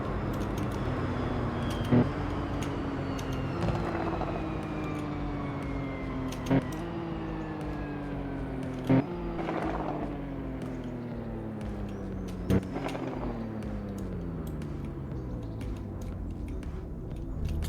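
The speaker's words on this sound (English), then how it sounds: "So let's start slowing that down, get some downshifts as well." Maserati MC20 engine decelerating, its pitch stepping down steadily with several sharp downshift blips along the way, a continuous loud drone heard up close with no talking.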